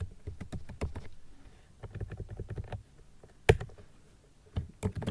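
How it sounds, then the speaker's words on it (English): Password typed on a computer keyboard: irregular bursts of close, distinct key clicks with short pauses between runs, a couple of sharper harder taps near the middle and end, no talking. "I'm typing my own password."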